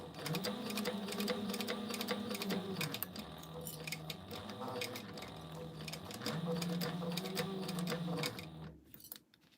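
A sewing machine runs steadily while top stitching a fabric pouch at a 1/8-inch seam, its rapid needle hum shifting pitch as speed changes, with a brief back stitch; the motor stops near the end.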